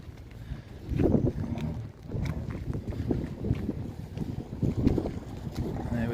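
A low, rumbling boat engine starting up and churning in Stonehaven harbour, its throb rising and falling under gusty wind noise on the microphone.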